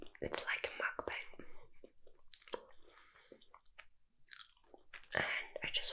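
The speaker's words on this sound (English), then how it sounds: "I wanna eat my nuts while I talk to you." Close, soft chewing and crunching of nuts in a quiet bedroom setting, with wet munching bursts mixed with whispered talk.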